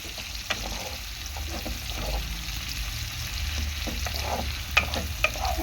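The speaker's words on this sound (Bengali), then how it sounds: "পেঁয়াজটা একটুখানি ভেজে নেব। পেঁয়াজটা খুব বেশি ফ্রাই করব না, একদম হালকা ফ্রাই হবে পেঁয়াজ।" Onion fries lightly in a pan with oil, a steady close sizzle broken by soft spatula stirring and two sharper clicks near the end, no voices.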